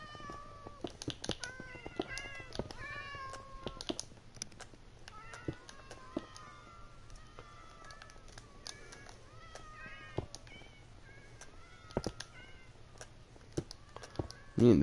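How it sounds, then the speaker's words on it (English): Many cats in a video game wander around a Mustang, meowing and chirping in a steady, faint stream of overlapping calls with occasional clicks. "Well, I guess we got some cats that will wander around this car."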